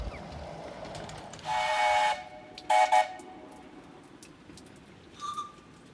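Short whistle blasts sound from a 7 1/4 inch narrow gauge 0-4-0 Romulus-design locomotive, two loud bursts close together followed by a fainter, briefer toot over a quiet outdoor background.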